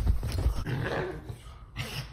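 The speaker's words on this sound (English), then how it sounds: "she would just sit there and start doing this growl bark" A pug lets out a low, rumbling growl that breaks into short gruff barks, close by, over about two seconds.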